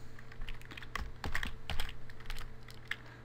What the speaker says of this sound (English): I'm going to type in my number.